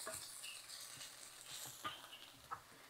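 Vegetables cook in a pan with a steady soft sizzle and occasional faint crackles, heard close and alone for a few seconds.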